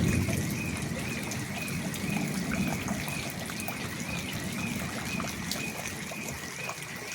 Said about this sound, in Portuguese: Uma chuva desse tamanho aqui eu nunca tinha visto, não.